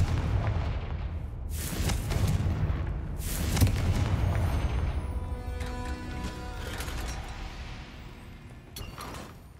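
A Confringo blasting spell detonates in the Hogwarts Legacy video game, giving heavy booming explosions with two loud bursts early on, then a rumbling decay and ringing magical shimmer.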